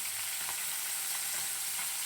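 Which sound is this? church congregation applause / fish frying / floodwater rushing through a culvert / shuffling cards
fish frying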